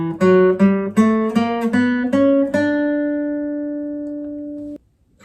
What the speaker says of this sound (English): we're going to interleave them to get an 8-note scale